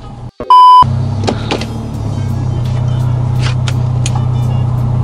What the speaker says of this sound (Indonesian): Terus ini kalau misalnya mundur, spion udah turun